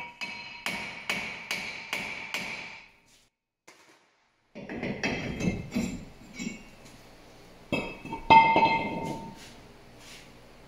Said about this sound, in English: Give it a light tap with a hammer.